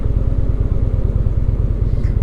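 A 2017 Indian Springfield motorcycle's exhaust rumbling at a steady idle, with a deep, even pulsing throb, close and loud with no talking.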